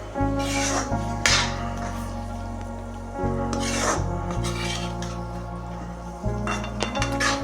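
A spoon scrapes and rasps through potato masala with peas in a pan, steady rhythmic stirring strokes close up with occasional clinks against the metal, no talking.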